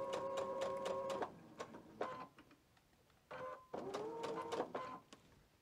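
A sewing machine stitches quilt block stripes for a flag quilt in short bursts: a longer run, a brief pause and quick stitch, then another sustained run, all fairly quiet and close.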